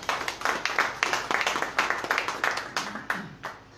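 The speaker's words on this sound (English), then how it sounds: "A round of applause for him" Audience clapping for a policing consultant introduced at a panel on state police, a dense run of close, sharp handclaps in a steady irregular patter that tapers off toward the end.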